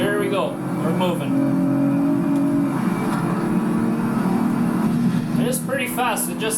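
A Nissan Z Proto race car engine drones and revs continuously in the Project Cars 3 racing game on PS5, with the pitch shifting as it accelerates, while someone talks over it at the start and end.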